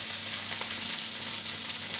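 Fennel frying in a pan with orange juice, giving a steady, close sizzle and crackle that runs evenly throughout, with no talking.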